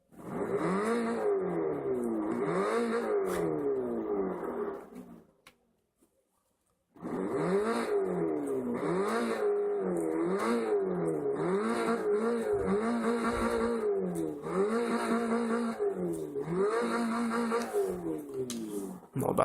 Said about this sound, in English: So let's first of all start with the Porsche 944 Turbo, shall we? Let's hear it.